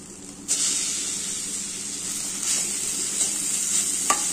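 Okra fry with chili powder, coconut and green chilies stirred in hot oil: a loud, steady sizzle that runs throughout, with faint scrapes of stirring breaking through now and then.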